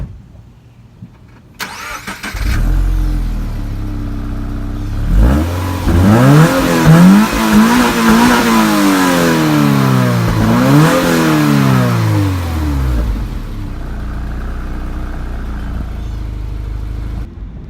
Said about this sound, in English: The exhaust on this car looks pretty good. Let's see if it sounds as mean as it looks.